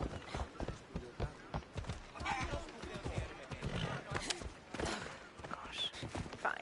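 Horse hooves striking the ground in Assassin's Creed Odyssey, a quick irregular clatter of hoofbeats running through the moment, moderately loud with game ambience behind.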